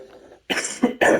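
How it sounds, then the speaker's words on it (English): A close, harsh cough repeats three times in quick succession, each burst loud and raspy. "Sorry about that, I've got a really bad cough at the minute."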